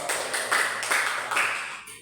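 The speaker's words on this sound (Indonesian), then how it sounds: "kasih tepuk tangan dong" Classroom applause from a group of students, a steady patter of clapping hands with a few louder surges, lasting about two seconds with no talk over it.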